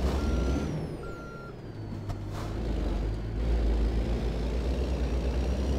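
Repeated reversing beeps from a truck in American Truck Simulator sound in a steady rhythm over a low idling diesel rumble, with a brief hiss of air brakes in the middle and no talking.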